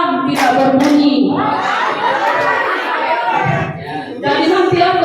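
A group plays a call-and-response clapping game, loud nearby hand claps coming in short bursts of one and two with pauses between, while voices chatter and laugh over and around them.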